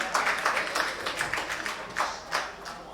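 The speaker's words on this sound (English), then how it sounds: "Chaitra Jaydev from Narayan Nagrale, a big clap for her." An audience claps together in a burst of applause, dense and lively, close by, with no voices over it.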